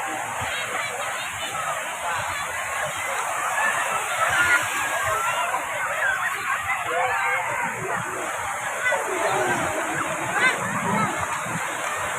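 At Krui beach on the west coast, people bathe in the sea amid steady washing surf, with scattered splashes and sloshing water and distant voices mixed into the continuous wave noise.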